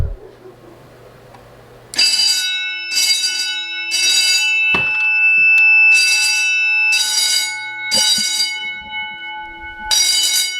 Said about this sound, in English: Bell works.